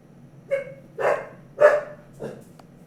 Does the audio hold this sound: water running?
no